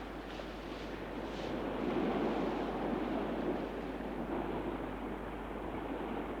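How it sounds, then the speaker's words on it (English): The swift-flowing Kunar River rushing past, a broad, steady roar of churning water that swells slightly midway and holds on without any voices. "It's a swift-flowing river"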